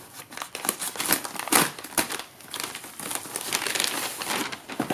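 Plastic packaging crinkles and crackles as a ZLYC leather Midori-style travel notebook, just delivered by Amazon, is unwrapped by hand, in close, uneven bursts of rustling and crumpling with no speech.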